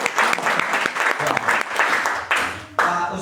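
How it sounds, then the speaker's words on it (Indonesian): Participants at a board game workshop for lecturers, teachers and counsellors clap for the prize-winning players, a loud, close burst of applause in waves with voices mixed in and a sharp jump in clapping near the end. "Ini Pak Syukur dengan Pak Jisan tepuk tangan mendapatkan hadiah."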